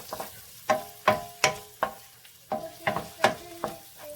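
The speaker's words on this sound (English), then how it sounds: "Let's add the mushrooms and then saute it." Mushrooms sauté in a pan with a light background sizzle, punctuated by a rhythmic series of sharp metallic scrapes and clinks as a utensil stirs them, roughly one stroke every half second.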